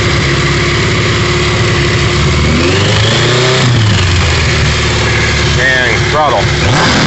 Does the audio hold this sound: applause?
no